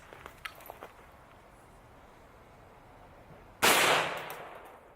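A single sharp gunshot cracks loudly at an armor plate near the end, ringing briefly as it decays, after several seconds of faint clicks and quiet background.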